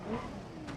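ETK K1 with the 2.7 Rennspect configuration driving in traffic in BeamNG.drive, its engine giving a steady, moderately loud hum with a slight rev near the start and a brief hiss toward the end.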